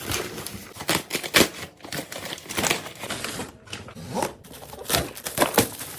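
Crinkly plastic packaging of a space-themed clay sticker kit is torn and handled at close range, giving a run of sharp rustles, crackles and snaps that come in irregular bursts, with no talking.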